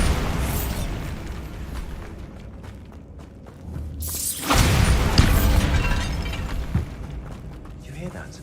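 A Bombarda spell explodes inside a tomb in the video game Hogwarts Legacy. A single loud, deep blast with a shattering crack bursts out after a quieter stretch of eerie ambience, then its rumble and falling debris fade away.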